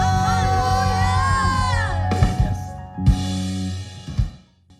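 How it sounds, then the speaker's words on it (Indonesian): A church congregation cheers hallelujah and whoops loudly, with clapping mixed in and a sustained chord of music underneath, swelling in bursts before dying away. "Berikan tepuk tangan buat Tuhan, sorakan haleluya."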